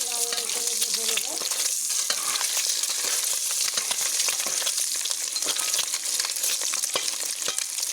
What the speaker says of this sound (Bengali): এবার ভালো করে নেড়ে লাল লাল করে ভেজে নেব